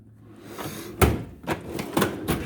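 A metal tool drawer in a home garage rattles open in a few quick jolting scrapes and clunks, close and fairly loud.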